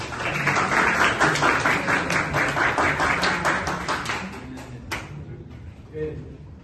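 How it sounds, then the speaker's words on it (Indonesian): Classroom applause from students, a dense patter of many hands clapping for about five seconds before tapering off, with a few scattered claps and murmured voices at the end. "Beri tepuk tangan"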